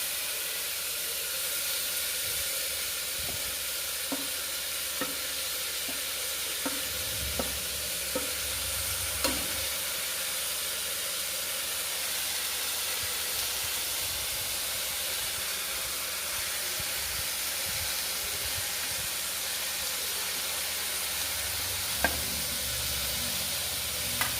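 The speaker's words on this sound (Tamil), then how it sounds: "நல்லா கலரி விட்டுருங்க. காய் நல்லா ஒரு பாதி லேசாக வேகட்டும்." Beans and carrots with sambar powder, turmeric and asafoetida are stirred in a pot for a one-pot sambar rice, giving a steady sizzle and hiss with soft scraping strokes of the spoon throughout.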